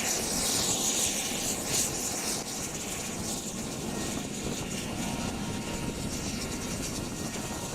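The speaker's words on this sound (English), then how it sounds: "This is the MV-22 Osprey, which can transform from a helicopter into a plane." An MV-22 Osprey tiltrotor aircraft gives a steady, loud roar of engines and rotors with broad hiss, holding nearly constant throughout with no voices.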